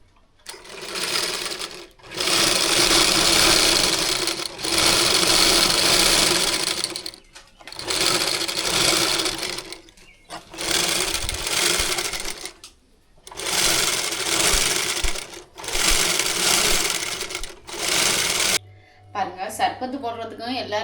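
A sewing machine stitching a new blouse runs in loud, close bursts of rapid mechanical whirring, separated by brief pauses, with a voice heard at the very end.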